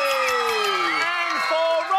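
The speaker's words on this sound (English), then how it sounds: "Hear a huge cheer for Roberta!" A studio audience of children cheers and whoops at a TV show, a dense wall of high excited voices and shouts that rises again at the end.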